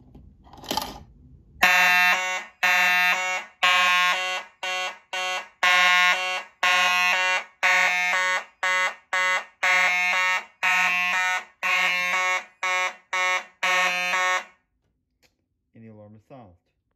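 A loud electronic fire alarm sounds in a rapid series of repeated harmonic bursts for about thirteen seconds during a key-operated system test, then stops, followed by a brief faint sound.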